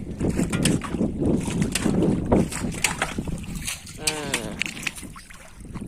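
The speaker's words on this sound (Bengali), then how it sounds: "পানির যে একটা ঢেউ বাতাসে কারণে হচ্ছে" Wind-driven waves lap and splash around a boat on a haor wetland ringed with hijal trees. Gusty wind buffets the microphone throughout, and a person talks over it.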